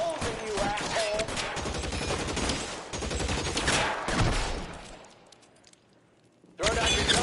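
Rapid bursts of gunfire in the 1940s crime game L.A. Noire rattle in a loud, continuous shootout, then drop to near quiet before another loud burst cuts back in; voices shout briefly amid the shots.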